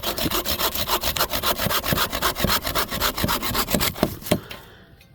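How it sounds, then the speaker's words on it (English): A bow saw cutting through wood near an off-grid tiny house, loud rhythmic back-and-forth rasping strokes at a steady quick pace, slowing and stopping near the end, with a brief spoken word. "Now let's test bow saw."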